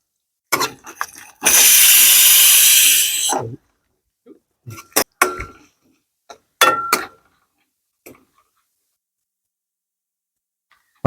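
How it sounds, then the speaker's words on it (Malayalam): A kitchen pressure cooker lets out its third whistle, a loud sustained hissing blast of about two seconds, surrounded by short clinks and knocks of pans while liver roast is being cooked. "ഇവിടെ വിസിലും കേട്ടുകൊണ്ടിരിക്കുന്നുണ്ട് മൂന്നാമത്തെ വിസിലാണ്"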